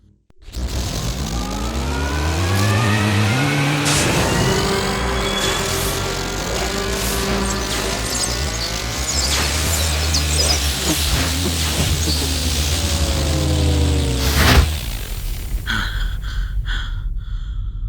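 Science fiction audio drama effect of a spaceship's SST drive engaging, a loud sustained roaring rumble with rising and falling whooshing sweeps that builds steadily, then ends in a sharp burst followed by a fainter fluttering hum.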